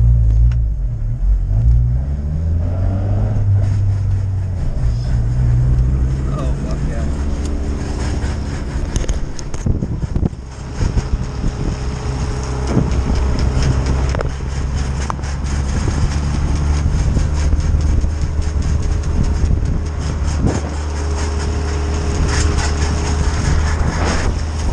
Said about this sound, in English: the clutch gotta go right in for some reason.